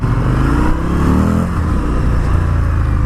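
An Indian FTR 1200 from 2020 fitted with Akrapovic exhaust cans, revving loudly up close, its engine note rising and falling steadily for about three seconds without any voices.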